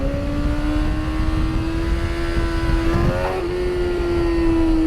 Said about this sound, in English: That was pure engine braking. I cut the throttle, the bike goes down.